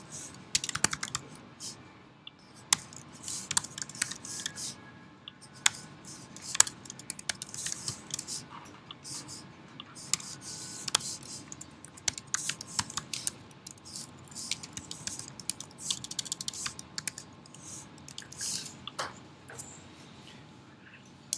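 A computer keyboard being typed on while code is written, a quick irregular patter of sharp key clicks in bursts with short pauses, close and fairly quiet, with no talking.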